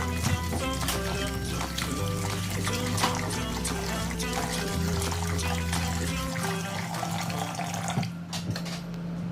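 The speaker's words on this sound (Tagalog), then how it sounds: "gamit ng strainer at i-drain" Water pours steadily through a metal strainer as washed raw beef is drained for a stir-fry in oyster sauce, a continuous splashing trickle close by, running over a low hum before easing off near the end.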